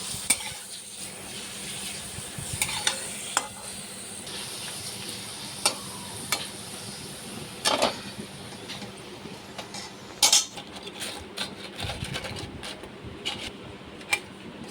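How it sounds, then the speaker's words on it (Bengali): Papad frying one by one in hot oil, a continuous close sizzle broken by several sharp clacks and scraping knocks of a utensil, with no voices. "একে একে সবগুলি পাঁপড় এভাবে ভেজে নেব"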